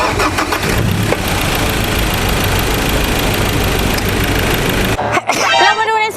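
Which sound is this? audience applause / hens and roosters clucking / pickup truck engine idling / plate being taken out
pickup truck engine idling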